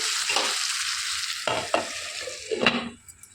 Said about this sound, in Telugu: ఇలా ఒకసారి కలిపేసుకొని మూత పెట్టి మగ్గించుకోవాలండి స్లో ఫ్లేమ్లోనే మగ్గించుకోవాలి